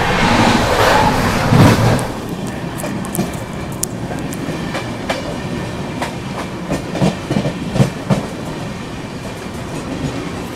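Seemanchal Express sleeper coach in motion: a steady rolling rumble with scattered wheel clicks and clatter, loud and close throughout, with a heavier burst near the start and no talk.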